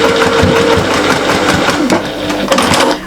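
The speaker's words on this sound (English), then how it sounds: "you're going to just top stitch very, very closely to your seam" A sewing machine runs steadily and close up, top stitching a curved pouch seam with a continuous rapid mechanical chatter that barely varies in pace.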